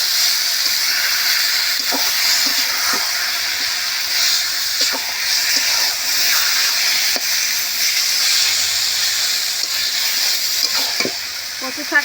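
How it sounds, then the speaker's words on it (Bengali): Taro greens stir-fried with spices in a village-style pan give a loud, continuous hissing sizzle, broken by scattered scraping and clacking stirs over about twelve seconds with no talking. "মশলার সঙ্গে বেশ শাকটা বেশ ভালো করে এইভাবে কষিয়ে নিতে হবে।"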